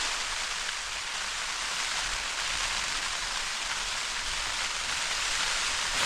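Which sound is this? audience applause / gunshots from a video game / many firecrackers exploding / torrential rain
torrential rain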